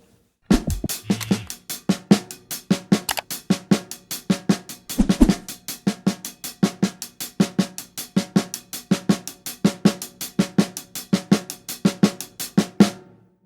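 Drum rudiment groove in inverted doubles played with hands only, left hand leading: a steady, fast run of crisp sticked strokes in paired accents, close and alone for about twelve seconds.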